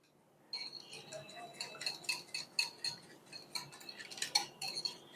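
Spoon clinking and scraping against a bowl while raita with mint juice is stirred, a quick irregular run of light metallic ticks and taps, close and fairly quiet.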